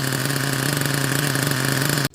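A Team Associated MGT RC monster truck runs its engine on its first run, a steady buzzing drone at nearly constant pitch that holds loud and close for two seconds, then cuts off abruptly.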